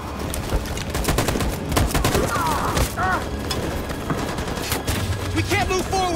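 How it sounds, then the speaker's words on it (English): Sustained machine gun fire in the Detroit: Become Human battle for Detroit, loud dense bursts with booms and mechanical clatter in a chaotic combat mix, continuing across the whole stretch with some voices underneath. "That machine gun has taken down everything that moves."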